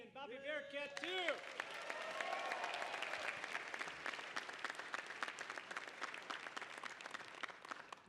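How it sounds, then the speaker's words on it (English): Audience applause fills a graduation commencement hall, a broad, sustained wash of many hands clapping that swells quickly and holds steady, with a voice briefly heard at the start. "How about a round of applause for Gabby and Bobby Bearcat"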